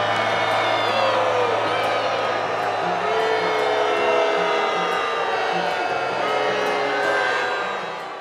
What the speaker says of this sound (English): This was one of the worst responses to Graham I've ever seen or heard, with sustained booing, shouts, and chants